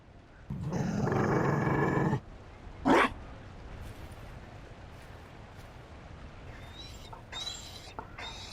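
A Mabari war dog from the video game Dragon Age gives a loud, close, rough growl lasting under two seconds, followed by a short snarl and quieter background game sounds.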